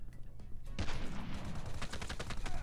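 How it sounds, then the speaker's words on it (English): Rapid bursts of gunfire in Call of Duty Mobile, a clatter of overlapping shots, some distant and some closer, crackling continuously. "there's a lot of shots going on at Crash over there"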